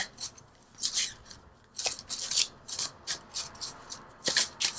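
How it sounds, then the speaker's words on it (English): Enchanted Map Oracle cards being shuffled and handled, a run of quick, crisp riffling and rubbing bursts in an uneven rhythm, close and fairly soft, with no talking. "let's pull from the Enchanted Map Oracle cards just to bring it together"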